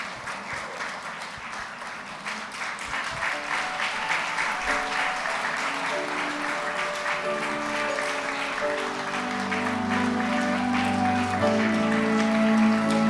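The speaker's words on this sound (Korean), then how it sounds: "신부에게 큰 격려와 축복의 박수를 부탁드립니다" Wedding guests at a church wedding service applaud as the bride enters, sustained dense clapping growing fuller while organ or piano music rises underneath.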